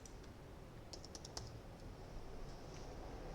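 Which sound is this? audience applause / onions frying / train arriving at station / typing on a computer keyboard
typing on a computer keyboard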